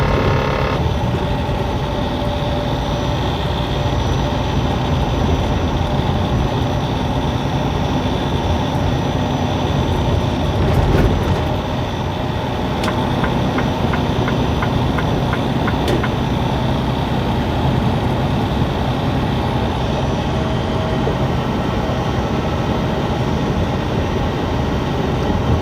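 A BNSF freight train passes, heard as a continuous loud, heavy rumble that fills the whole stretch, with faint clanking ticks partway through.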